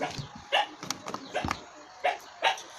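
Several dogs barking in short separate bursts at moderate distance, roughly five barks spread evenly across a few seconds, with faint background noise and no talking.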